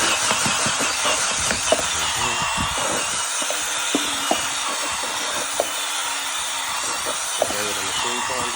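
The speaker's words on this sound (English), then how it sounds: "then I'm gonna use my drill" A cordless drill spins a scrubbing attachment on carpet during a professional cleaning job, a steady mechanical whir running throughout with brief clicks, under a voice.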